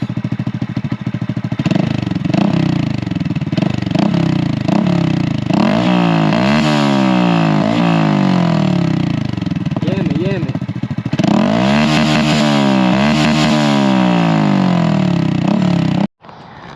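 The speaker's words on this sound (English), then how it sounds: "this is the bike at idle. He's gonna do again light revs and then louder revs." Honda Grom motorcycle fitted with an $80 Kemimoto Amazon exhaust, idling with a steady putter before several rising revs, first lighter and then louder, ending abruptly; a voice briefly speaks.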